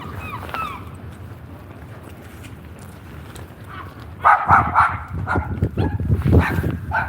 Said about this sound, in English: Little dogs there.